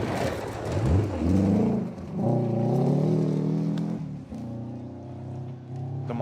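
A rally car roars past close by during the Oregon Trail Rally, its engine revving high, dipping, then climbing again before the sound fades with a gravelly rumble.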